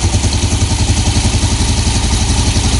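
A 2021 Yamaha Jupiter Z1 motorcycle engine running cold while being checked for a ticking noise, a loud close steady idle with a regular pulsing, faintly clattering rhythm and no talk.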